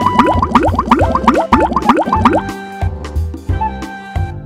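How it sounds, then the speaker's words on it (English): Cartoonish glugging and dripping effects accompany sauce poured onto pizza dough in a kids' video game: quick rising bubbly plops in rapid bursts, then slower spaced drops, loud and close with no talking. "Put sauce on the dough."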